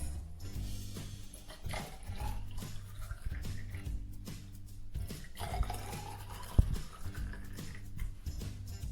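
Warm water is poured into test tubes in two separate fills, each producing a rising pitch as the tube fills. Soft background sounds sit underneath.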